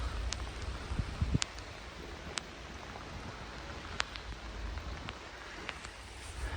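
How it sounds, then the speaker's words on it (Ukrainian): Heavy rain falls steadily at an outdoor car market in Lutsk, a constant diffuse hiss with scattered sharp drip and tapping transients, moderately faint throughout and with no talking. "Дуже сильний падає дощ в Луцьку"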